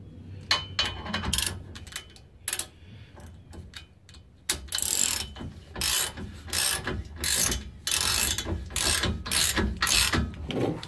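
Hand-cranked torsion bar unloading tool on a Chevrolet Silverado during a leveling kit install, giving a rapid metallic ratcheting clatter in repeated bursts, sparse and clicky at first, then denser strokes close to the microphone.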